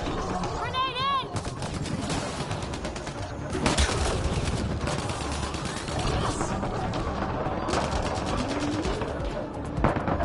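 Gunfire in the video game Mass Effect Andromeda, a fast sustained volley of shots with a louder burst near the end, layered over continuous game sound and a brief chirping call.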